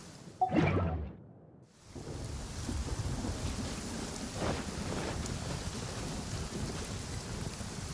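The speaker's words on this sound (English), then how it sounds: "Thunder and lightning can be quite frightening" A thunderstorm in the video game Genshin Impact opens with a sharp thunder crack that rumbles away, followed by steady rain and gusting wind, with a few whooshing surges.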